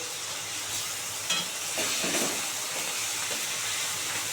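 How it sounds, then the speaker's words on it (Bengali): Steady hiss and crackle of khoira fish frying in hot oil, with a few brief sharper spatters, no voices. "একটা একটা করে সব ভেজে নেবো সুন্দর করে"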